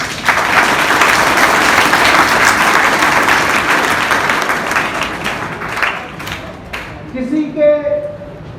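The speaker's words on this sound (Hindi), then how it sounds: "ताली बजाएंगे एक बार अपने लिए।" Audience at a seminar bursts into loud, dense applause that holds steady for several seconds and then thins out, with a voice speaking briefly as it fades.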